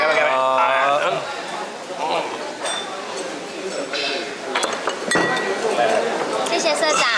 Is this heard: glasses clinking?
yes